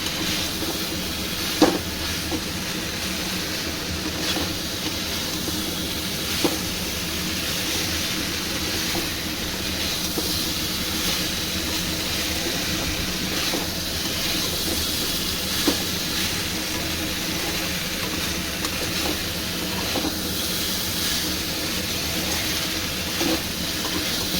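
Potato and soybean chunks with spices fry in a pan as they are stirred, making a continuous loud hiss with occasional small clicks and scrapes.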